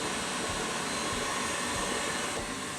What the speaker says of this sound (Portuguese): Eu vou bater agora em velocidade alta até que esse creme fique esbranquiçado e